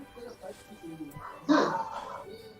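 A dog gives one sharp bark from middle distance, sounding over a man's ongoing speech in a quiet indoor setting.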